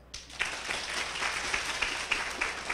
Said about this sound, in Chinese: 我给拍手